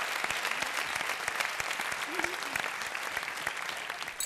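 Studio audience on a Turkish talk show applauding, a brisk, sustained clatter of many hands with distinct sharp claps, moderately close, while a voice speaks briefly underneath.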